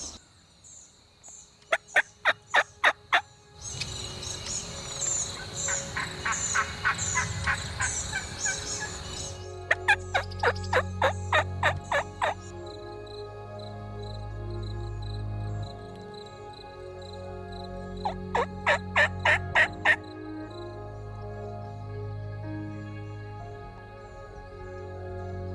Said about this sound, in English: we've heard one bird gobble so far on the roost